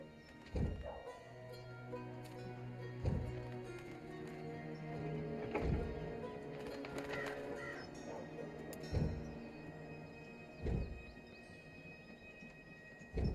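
A bird calls out in the fantasy video game Dreamfall Chapters, several sharp calls spaced a few seconds apart over a steady bed of game music and ambience.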